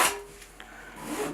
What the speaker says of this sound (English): Get your trowel out again and smooth it. Get rid of the excess mortar.